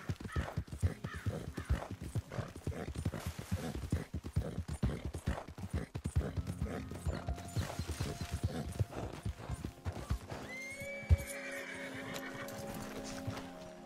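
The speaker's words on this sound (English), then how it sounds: "There we go, my real horse." Horse hooves clip-clop steadily at a gallop in the Red Dead Redemption game, with a whinnying neigh rising near the end over ambient game sounds.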